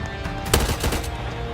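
Rapid bursts of gunfire from a zombie shooting video game, a couple of louder volleys rising over a dense, steady backdrop of game noise with no talking.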